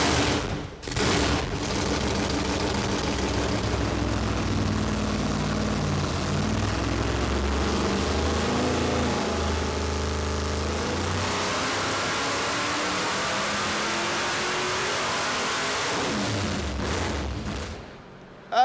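A car engine revs hard on a dyno during a power pull, a loud, rising mechanical roar held for many seconds with rapid crackling pops, then cutting off near the end.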